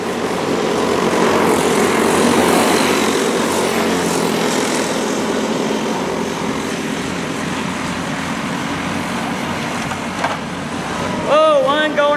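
Junior race cars roaring around a speedway oval during a feature race, a steady loud engine drone that holds throughout and fades slightly toward the end, with a brief tonal burst near the close.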